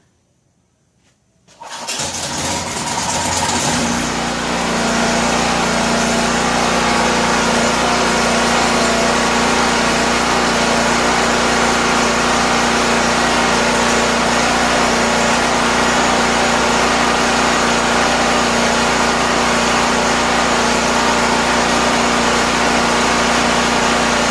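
A Champion 4000-watt generator catches after a brief cranking attempt, then settles into a steady, loud, continuous running drone with a constant low hum, heard alone and up close.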